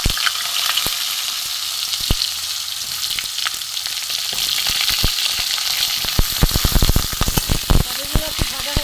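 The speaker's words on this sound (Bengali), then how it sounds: "পটলগুলো একটু ভাজা হোক" Pointed gourd (potol) fries in hot oil in a pan, a constant bright sizzle with sharp crackles and pops that grow denser near the end, heard close up with no voices.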